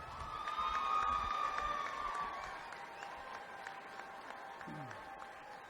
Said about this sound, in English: Let's give this group of students one more big round of applause